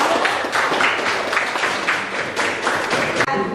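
A classroom of students claps for a presenting group, a loud, slightly uneven burst of many hands with distinct claps poking through, ending abruptly near the close.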